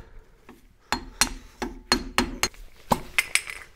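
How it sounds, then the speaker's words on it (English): A pry bar taps a grease cap off the centre of a rear wheel hub on a Nissan Micra K12, giving about a dozen close, sharp metallic knocks at irregular intervals, some ringing slightly. "I'm just using a pry bar here, just to tap it."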